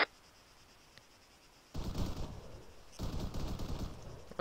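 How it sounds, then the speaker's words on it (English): Dense bursts of gunfire from the ArmA 3 military shooter rattle in two sustained loud volleys after a quiet start, with no one talking. "A lot of gunfire."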